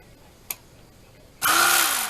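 Electric knife slicing a loaf of sourdough cinnamon raisin bread: after a single sharp tick, the motor bursts on loudly and buzzes steadily at close range, with a low grinding tone as it works into the loaf.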